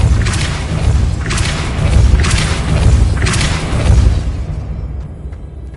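Repeated Depulso spell blasts in Hogwarts Legacy, a series of loud booming whooshes with bright bursting edges roughly once a second over a rumbling game background, fading out at the end.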